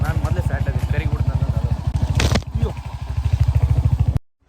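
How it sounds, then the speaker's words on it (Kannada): A motorcycle rides along an off-road track toward the beach in North Goa, its engine thrumming steadily and loudly in a fast regular pulse. Rattling and clatter ride on top, and the sound cuts off abruptly at the end. "ಸೀದಾ ಡೈರೆಕ್ಟ್ ಬೀಚ್ ಹತ್ರನೇ ಬೈಕ್ ತೊಗೊಂಡು ಹೋಗ್ತಾ ಇದ್ದೀವಿ ನಾವು"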